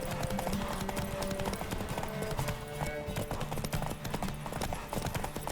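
Galloping horse hooves in The Witcher 3, a fast steady clip-clop rhythm up close over a continuous music bed, with no speech.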